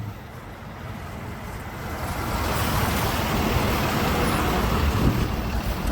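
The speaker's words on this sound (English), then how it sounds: "This is my northbound Route 10 bus. So here it comes." A northbound Route 10 city bus from Clovis Transit pulls up to a stop, its broad engine and road roar building gradually and staying loud and close, with no talking.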